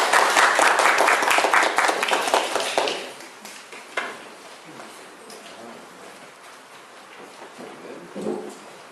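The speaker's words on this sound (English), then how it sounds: "a big round of applause" An audience at a talk on painting sci-fi and fantasy models welcomes the speaker with loud, dense applause that fades after about three seconds into a few scattered claps and room noise.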